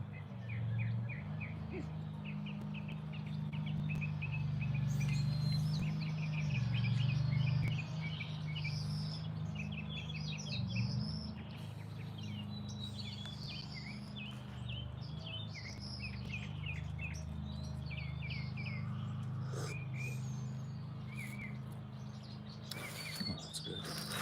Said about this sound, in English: Chilling out with the sparrow.